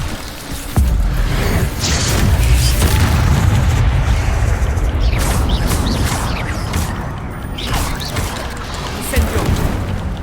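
An Incendio fire spell in a wizard video game erupts as a sudden booming blast followed by a sustained roaring, crackling rumble of flames and impacts, with someone talking excitedly over it.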